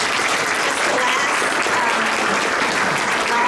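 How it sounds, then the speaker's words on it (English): A crowd at a Loudoun County political candidates' forum applauds steadily, a dense, loud wash of clapping that fills the whole moment without pause. "Give our candidates a round of applause real quick."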